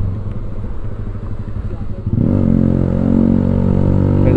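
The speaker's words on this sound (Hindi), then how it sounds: "बाइक की वजह से आवाज नहीं आ रही होगी तो तेज बोल देता हूँ यार" Yamaha R15M motorcycle with a loud aftermarket exhaust, engine rumbling and clattering while riding, then a sharp throttle rise into a loud sustained rev halfway through, recorded up close.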